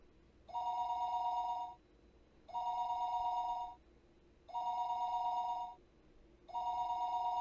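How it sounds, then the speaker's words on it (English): A telephone rings four times in a video game, in an even rhythm, each long electronic trill followed by a pause, steady and clear over quiet background hum. "listening to the dial tone. Pick up, come on, pick up!"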